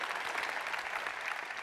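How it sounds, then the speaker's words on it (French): Audience applause at a French economic conference, a dense steady patter of many hands clapping across a large hall, with no talk over it. "Vous pouvez vous applaudir."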